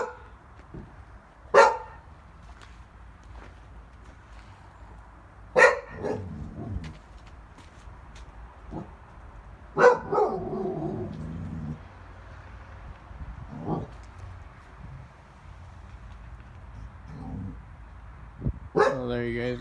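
A dog barks and yelps intermittently in the background, with a few sharp, separate outbursts spread across a quiet room during a motorized bicycle build, while someone talks faintly nearby.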